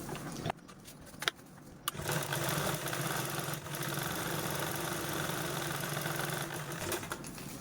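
Sewing machine stitching a straight seam along the edge of fabric for a homemade ironing-board cover bag, a steady continuous mechanical whir after a few brief starts, close and alone without talk.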